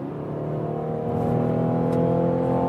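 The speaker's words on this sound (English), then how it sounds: "You can hear the engine. It sounds a little bit deeper here" A Mazda SUV engine revs up and pulls hard, a steady deep drone climbing in pitch and getting louder partway through, with no talking.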